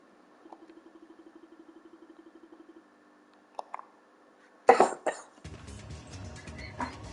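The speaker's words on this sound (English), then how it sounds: "The cough was genuine as well." A person coughs in a broadband burst with a quick follow-up, after a run of soft rhythmic clicking and two small knocks; a rougher noisy stretch comes after the cough.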